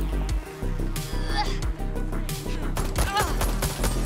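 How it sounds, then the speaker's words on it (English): Gunfire in the video game Watch Dogs Legion, a dense burst of rapid shots crackling steadily across the whole stretch, loud and close, layered over busy game sound and music. "Who the fuck is shooting me?"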